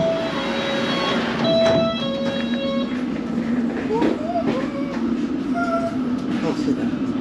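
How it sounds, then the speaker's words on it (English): Steady low rumble of a London Underground train running on the rails from Amersham toward central London, with occasional tonal whines and squeaks rising over the continuous drone. "I'm taking this train back into central London."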